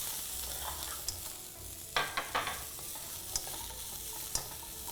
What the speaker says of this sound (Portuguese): E refoga.